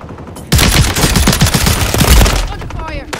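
Call of Duty video game gunfire: a loud, rapid automatic burst starts suddenly and rattles for about two seconds. It then fades into lighter game noise and a brief electronic tone.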